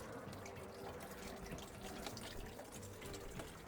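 Spring water runs from a public fountain in Comănești, Romania, as a steady hiss of splashing water that stays constant from start to finish. It sounds close and continuous, with no voices.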